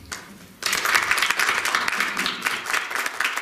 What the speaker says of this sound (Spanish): con un fuerte aplauso, que te lo damos ya de adelanto